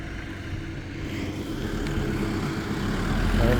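Diesel cars passing on a street in Slovakia, a steady low engine rumble that builds slightly toward the end, with no talk over it.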